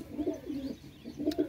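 Pigeons cooing up close in repeated soft, rolling low coos, two bursts separated by a short pause, with no talking.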